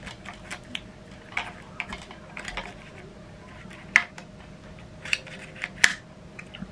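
A small mechanical click sounds as the film knob of a Yashica A twin-lens reflex camera locks into place, a sharp close snap near the end among a few lighter handling clicks and taps over quiet room hiss.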